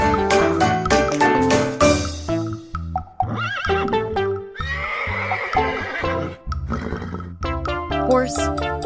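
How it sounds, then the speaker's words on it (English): A horse neighs with a drawn-out whinny midway, heard over jingly children's music with a light clip-clop of hooves. "Horse."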